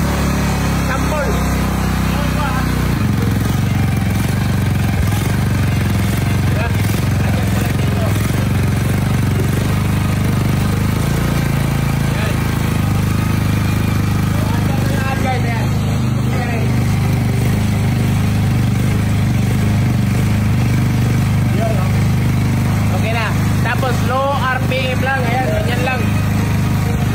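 A carbureted engine on a budget cam-grind build revs up and down under load, a steady loud drone with surging pitch throughout, and a voice talks over it.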